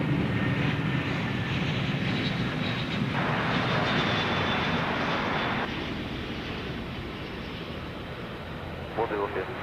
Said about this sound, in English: Next one to arrive, American 2533 from Philadelphia, the city of brotherly love. It's an Airbus A321.